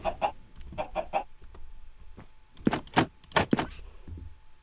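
Chickens in a multiplayer game server cluck repeatedly in short bursts, several birds overlapping at moderate loudness, with a denser cluster of clucks toward the end and no talking.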